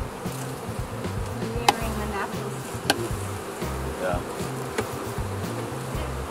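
A steady, dense buzzing of many honeybees fills the air nearby as a swarm is transferred into a hive, with a few sharp knocks and people talking quietly over it.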